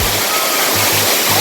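Waterfall water rushing loudly and steadily at a Jamaican waterfall, a dense continuous roar with low thumping pulses.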